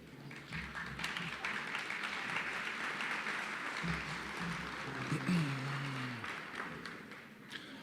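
Quiet, distant applause from an awards-ceremony audience approving a board slate, steady clapping with some murmured voices and a low sound underneath.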